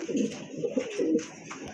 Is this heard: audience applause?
no